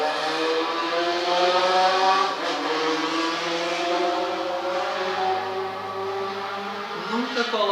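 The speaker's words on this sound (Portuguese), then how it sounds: "nunca coloquem um escapamento barulhento na sua moto ou no seu carro" A car with a loud exhaust revs steadily, a close rough roar rising and falling for several seconds with a voice faintly underneath.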